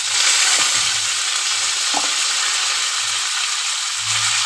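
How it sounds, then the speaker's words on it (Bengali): Potatoes and ridge gourd fry with cumin seeds in oil in a wok, giving a close, steady sizzle broken by a few soft scraping stirs. "আমি কড়াতে জিরে ফোড়ন দিয়ে দিয়েছি, আলুটা একটু ভেজে নিচ্ছি।"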